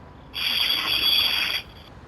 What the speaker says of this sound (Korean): 믹서기 소리를 녹음한 뒤 스피커나 마이크를 이용해